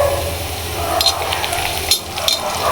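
Garlic sizzles and fries in hot oil in a pan after onions, a steady close crackling hiss with a few brief stirring scrapes, no talking.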